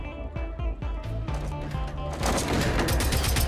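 Rapid gunfire in the survival shooter Generation Zero as players fire at hostile robots, a burst of repeated close shots building into denser, louder automatic fire.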